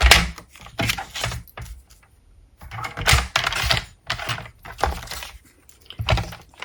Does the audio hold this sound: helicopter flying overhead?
no